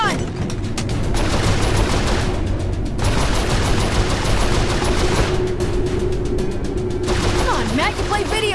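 Turret gunfire from a vehicle chase in the video game Saints Row 4, a loud continuous rapid-fire stream that runs almost the whole time with brief gaps, mechanical clatter mixed in.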